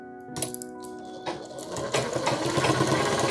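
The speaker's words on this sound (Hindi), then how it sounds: "हम एक और सिलाई डालेंगे।" A sewing machine runs steadily while stitching a half-collar choli-cut blouse, starting after a brief metallic clink and growing into a constant, fairly close mechanical whir.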